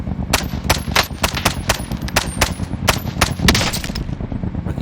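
Loud automatic gunfire in Call of Duty: Warzone, a close, rhythmic stream of sharp shots repeating across the whole stretch.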